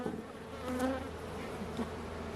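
Honeybees buzzing during a mid-July hive inspection, a close, steady droning hum with individual bees swelling louder as they pass near.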